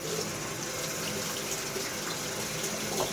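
Water tap running steadily into a sink while a Gillette Tech Hybrid safety razor is rinsed, a constant close splashing hiss with no talk.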